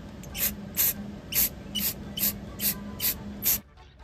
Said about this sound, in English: We're going to spray it ever so slightly